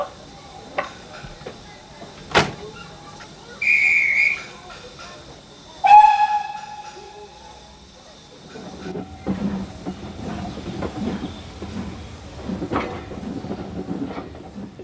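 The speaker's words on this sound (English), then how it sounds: "Train just arrived at platform 1." A steam train arriving at a Severn Valley Railway station platform: a sharp clank, two shrill whistle blasts, then chuffing and rumbling as it rolls in, with faint voices.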